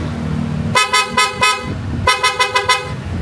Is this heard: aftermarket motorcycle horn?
yes